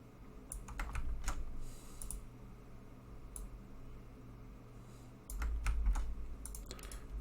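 Someone types a database command on a computer keyboard for an Ubuntu server WordPress setup, with scattered bursts of crisp key clicks close by, separated by pauses, and a low steady hum underneath.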